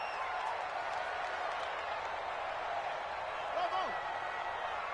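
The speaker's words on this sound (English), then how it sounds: "The crowd getting into it as we come up on a big 3rd down." Stadium crowd noise from a PS4 football video game, a steady broad roar sustained under a play-by-play commentator as a big third down approaches.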